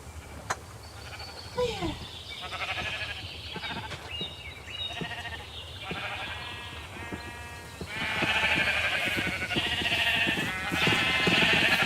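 Sheep bleat repeatedly in Minecraft, the colored flock's wavering cries overlapping near and far against a busy game background, growing louder and denser toward the end.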